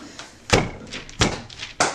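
Three sharp, hollow bangs land about half a second apart as a soap mold is knocked firmly down onto a table, close and loud.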